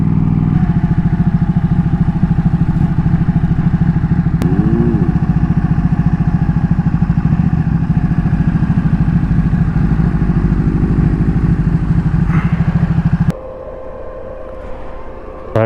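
Ducati 1199S and KTM 890R motorcycles riding a canyon road, a loud, steady engine drone with wind roar that holds for about thirteen seconds, then drops abruptly to a quieter hum.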